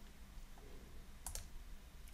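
A computer mouse gives two quick, faint clicks close together on buttons in statistics software, set against a quiet room hum.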